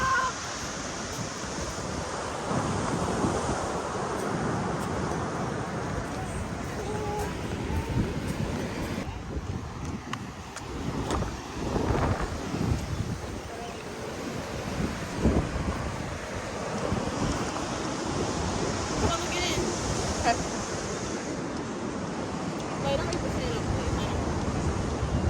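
Strong wind gusts buffet the microphone at a beach in Myrtle Beach, a constant roar with rushing surf beneath, while people talk intermittently over it.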